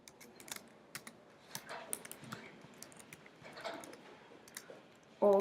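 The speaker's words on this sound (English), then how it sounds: "Let's type in career or work or occupation" Keys tapped on a computer keyboard while search terms are entered, a steady patter of soft, close clicks with small pauses, then a brief tonal blip at the very end; nobody speaks.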